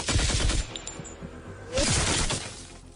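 An autocannon firing on an ooze as a Starfinder tabletop sound effect, heard as two loud bursts of rapid, crackling shots, one at the start and one near the end, with a quieter gap between them.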